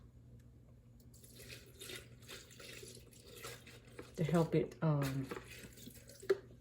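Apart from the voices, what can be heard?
water poured into a smoothie blender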